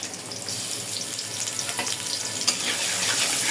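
Half a cup of onions dropped into hot oil for a pumpkin and hilsa curry, giving a bright, continuous sizzle with a sharp crackle partway through and no voices.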